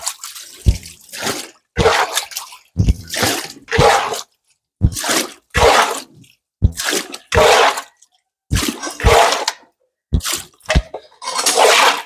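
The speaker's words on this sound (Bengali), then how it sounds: "গরু খাওয়ার পরে যে পানিটুকু রয়েছে সেই পানিটুকু কিন্তু বেলচার সাহায্যে উঠিয়ে নিব।" Leftover water scooped from a cattle feeding trough with a shovel, each scoop a splashy, sloshing burst followed by a short pause, repeating about a dozen times close by.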